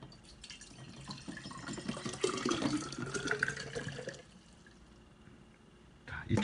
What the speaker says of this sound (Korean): 한번 다시 부어볼까요?